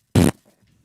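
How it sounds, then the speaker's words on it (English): A single short, loud, buzzy fart noise effect, about a fifth of a second long, followed by near silence. "Fart noise."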